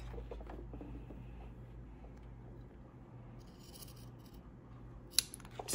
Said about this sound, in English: we're going to clip in at the dots all the way up to our stitch line